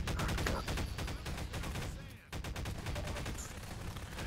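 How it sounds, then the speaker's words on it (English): Rapid, loud bursts of shotgun and weapon fire in a Half-Life 2 multiplayer match, shots stacking into a dense barrage with a brief lull near the middle before the firing resumes. "Shotgun, very effective."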